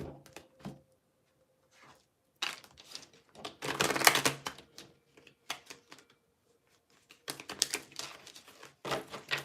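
Tarot cards are shuffled in quick riffling bursts, papery flicks and taps coming in irregular clusters separated by short silences, close and fairly quiet with no talking.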